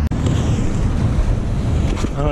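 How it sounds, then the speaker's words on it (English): Out on the open water of a seaway, a passing boat is buried in heavy wind buffeting the microphone and washing waves. A loud, rough roar holds steady, and a brief voice comes in near the end. "Oh, that's a boat."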